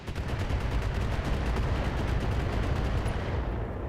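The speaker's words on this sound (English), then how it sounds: "Oh, they have a turret firing on us?" In the BattleTech game, a turret fires on mechs with rapid, rhythmic bursts of heavy gunfire that rumble loudly and continuously for several seconds.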